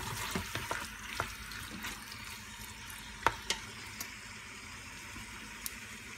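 Chicken thighs browning in an Instant Pot give a soft, low sizzle with a few scattered sharp pops and clicks, quiet and close, with no talking.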